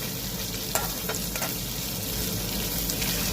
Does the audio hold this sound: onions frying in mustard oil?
yes